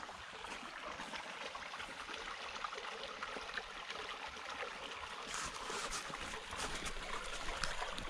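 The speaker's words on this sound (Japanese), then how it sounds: "横にこういう小川が流れてるんですけど、これももしかしたら湧き水なのかな。" A small stream runs beside a shrine's spring, its steady trickle and burble of water continuous and moderately close throughout, with no voices.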